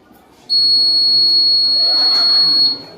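A single sharp electronic quiz buzzer at a school science expo blares for about two seconds, a loud steady high tone starting abruptly and cutting off, over faint room noise.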